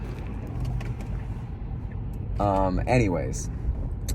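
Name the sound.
road traffic in New Jersey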